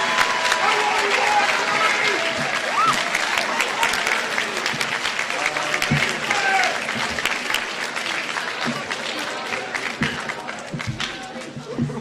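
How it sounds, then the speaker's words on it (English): Audience applause for the winners at a senior oratorical contest ceremony, a steady dense wash of many hands clapping that stays loud for the whole stretch, with faint voices and a few cheers mixed in. "Let's give our winners a round of applause."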